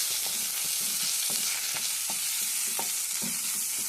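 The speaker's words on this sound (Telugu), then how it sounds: "పసుపు, అల్లం వెల్లిగడ్డ పేస్ట్ వేసేయండి. వేసేసి బాగా కలపండి." Onions with mint, turmeric and ginger-garlic paste fry in a pan for a chicken curry, giving a steady close sizzle broken by regular scraping strokes of a stirring spoon, with no voices.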